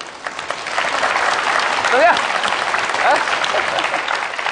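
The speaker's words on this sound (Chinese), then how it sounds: "热烈掌声不嫌多" Audience at a live crosstalk comedy show breaks into sustained clapping, loud and continuous, while a performer's voice speaks briefly over it.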